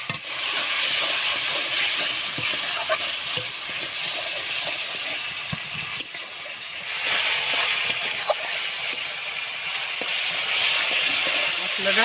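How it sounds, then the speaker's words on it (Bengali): Spice paste with salt and grated tomato frying in oil, a steady loud hiss and sizzle throughout with faint scraping now and then. "স্বাদ মতন লবণ, গ্রেট করে রাখা টমাটো, সুন্দরভাবে কষে নেব মশলাটা।"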